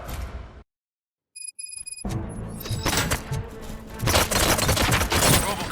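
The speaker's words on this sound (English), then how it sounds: "Gunshots? What's going on?" Rapid bursts of gunfire in the video game RoboCop: Rogue City, a brief silence with electronic tones, then heavy repeated shots and impacts growing louder toward the end.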